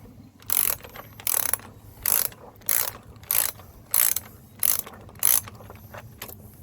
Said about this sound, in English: So got a 1/2 inch socket here.